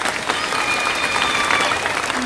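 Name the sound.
audience applause for Kino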